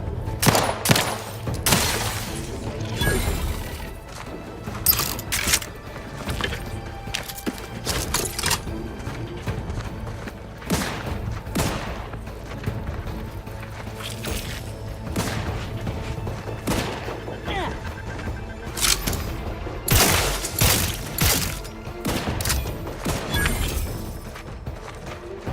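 Electric weapon firing in the video game Outer Worlds 2, repeated loud crackling bursts and booming impacts in irregular clusters over a continuous game soundscape, no voices.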